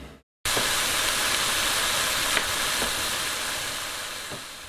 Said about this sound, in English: We got some bacon fried up.